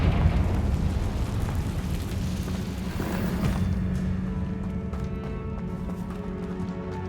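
A Confringo fire spell blasts in the video game Hogwarts Legacy, a dense, loud, roaring rumble that runs throughout without clear separate bangs and thins slightly toward the end.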